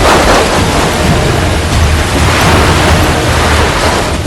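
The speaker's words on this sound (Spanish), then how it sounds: "La tormenta barre la ciudad de Río de Janeiro" Storm sweeping over Rio de Janeiro with strong winds and rushing water, a loud continuous roar and rumble of wind and water with no break, no voices.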